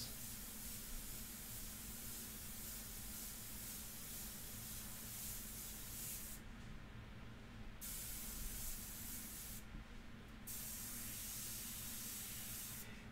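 Airbrush spraying India ink onto paper, a close, continuous soft hiss that cuts out twice for about a second before resuming.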